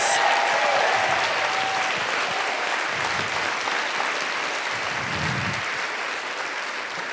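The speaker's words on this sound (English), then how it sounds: "Can we have one more big round of applause for these amazing panelists?" An audience gives a steady, full round of applause for a panel of speakers at a book launch event. The clapping is dense and even throughout, with a faint voice briefly audible beneath it.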